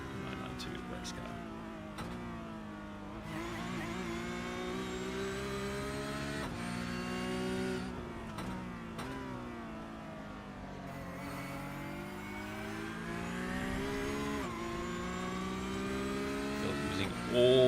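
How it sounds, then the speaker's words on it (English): A Porsche Cup 992 race car engine in a racing video game at Imola, revving and wailing steadily through gear changes with brief dips as it shifts, loud and continuous throughout. "we can hear the sweet sound of this Porsche Cup 992 race car"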